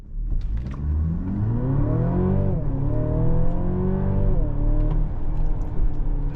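A 2024 Mercedes-Benz GLC Coupe hybrid accelerates on an empty road in sport mode, a steady rising engine note climbing in pitch in stepped gear changes, loud and close from inside the cabin, with no talk.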